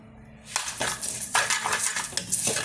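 Turmeric and asafoetida are stirred into pickle spices in a pot, making a run of close clinking and scraping strokes of a spoon against the metal, with no talk.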